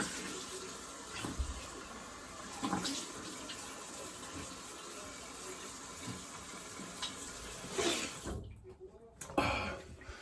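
Water runs steadily from a tap while a razor is rinsed, a continuous close splashing hiss broken by a few brief knocks and a louder gush near the end.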